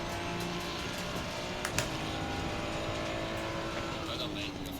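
A Ferrari in a racing video game drones with engine tone and tire noise as its rear end slides out, the sound continuous and moderately loud, with a person talking over it.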